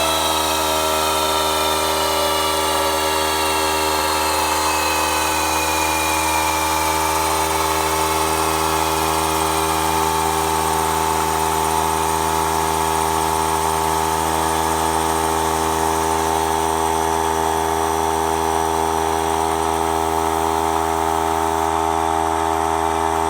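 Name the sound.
air tool running off a Harbor Freight 3-gallon oilless compressor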